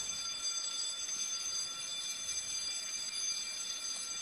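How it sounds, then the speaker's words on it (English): A fire alarm sounds aboard the Okeanos Explorer ship during an ROV dive, giving a steady, faint, high-pitched electronic tone that continues without a break and has no talking over it. "Fire alarm or something."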